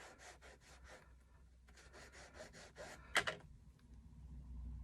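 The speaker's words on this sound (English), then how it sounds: "you can rub the side of your strip along your ink pad" Repeated rubbing strokes of a paper strip's edge dragged along an archival waterproof ink pad, a series of soft scratchy passes in a quiet room followed by a brief sharper scrape, with no talking.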